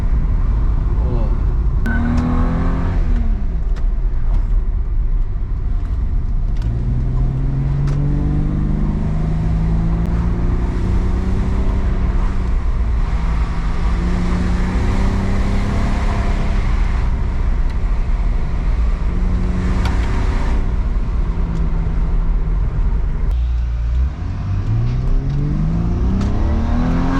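A Toyota Supra MK4 engine revs up and pulls away hard, its pitch rising and falling through several loud, close sweeps. Excited voices can be heard over the engine.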